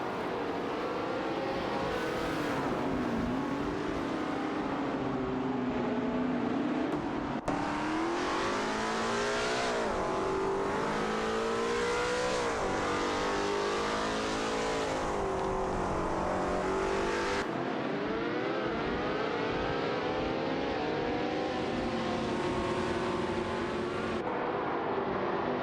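Racing car engines roar in a video game race, loud and continuous, with pitch climbing and dropping through gear changes and turns. A sharp shift in the engine tone comes partway through, and no one speaks.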